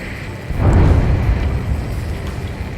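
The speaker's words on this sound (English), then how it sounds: "A huge explosion just went off underwater." Huge underwater explosion in the flight combat game Ace Combat 7: a deep, muffled boom that swells suddenly, then rumbles on and slowly fades, low and heavy with no voices over it.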